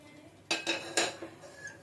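A metal vessel being handled while jaggery syrup is strained for making adhirasam clanks sharply three or four times in quick succession, close and bright, with quieter scraping in between.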